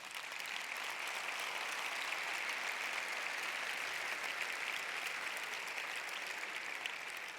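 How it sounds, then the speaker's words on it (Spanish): A large audience at a conference claps in sustained, even applause that holds steady and dense throughout, moderately distant and filling the room. "me gustaría que celebrásemos ese hecho con un fuerte aplauso para todos vosotros"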